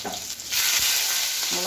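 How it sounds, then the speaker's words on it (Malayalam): Mustard seeds and cumin sizzle in hot oil in a pan, a steady close frying hiss that jumps louder partway through as more spices go in, with no talk over it. "കടുകിന് അപ്പം തന്നെ കുറച്ച് ജീരകവും കൂടി ഇടുക"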